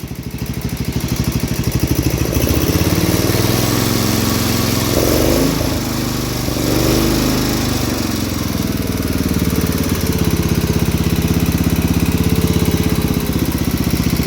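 A 1971 John Deere 110 lawn tractor's 8 hp Kohler K181 single-cylinder engine idles steadily and loudly, with a faint valve tick running through its drone.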